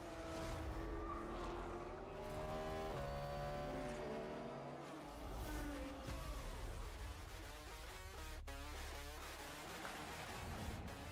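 Cadillac V-Series.R and Corvette E-Ray race cars in a video game trailer, engines revving and whining through rising and falling gear changes, loud and close, with overlapping passes and layered with other trailer sound.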